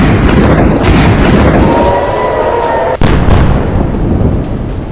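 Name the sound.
Israeli bomb explosions in Lebanon, news footage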